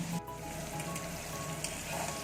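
Pointed gourd fries in oil with a soft, continuous sizzle and faint crackling, quiet and even throughout.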